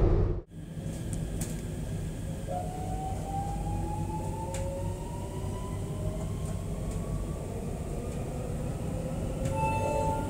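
A Delhi–Meerut RRTS rapid rail train runs steadily with a continuous rumble and rising electric motor whine, loud and close from inside a premium class carriage.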